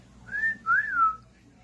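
A person whistles two short tones, the second one longer and sliding up then down, heard close and clear in a quiet indoor room.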